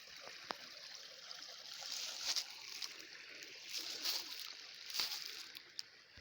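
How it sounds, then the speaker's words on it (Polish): A narrow forest stream trickles steadily in the Puszcza u Źródeł Radomki nature reserve, a faint continuous burble with a few small splashes and gurgles, heard alone without talk. "Multum strumyków, tutaj jeden z nich, które zbiegają się trochę poniżej."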